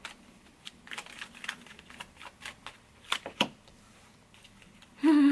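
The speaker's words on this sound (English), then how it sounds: "Am I shuffling these right?" Tarot cards are shuffled in a series of quick, dry riffling flicks and taps, close by, ending with a brief louder rattle.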